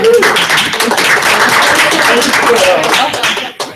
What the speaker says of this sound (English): So How about a round of applause for Tiana?